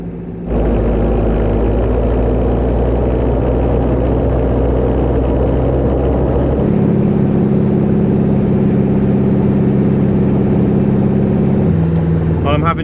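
A Jeep engine drones steadily as it labours uphill through deep powder snow in a forest. The low, continuous rumble holds throughout and shifts pitch partway through, as if the load or gear changes.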